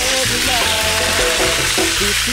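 Loud, continuous sizzling of red snapper frying in a hot pan, crackling steadily up close, with faint tonal sounds in the background and no talking.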